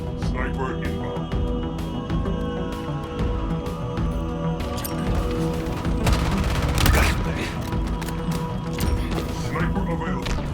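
Gunfire in a Halo Infinite multiplayer match: dense bursts of rapid shots and booming impacts layered over game music and effects, loud and continuous, with a louder crashing burst partway through.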